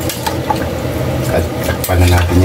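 Pork nilaga being stirred in a pot, scraping and clinking of a utensil against metal over a low simmering bubble, close and fairly loud, with a voice speaking briefly.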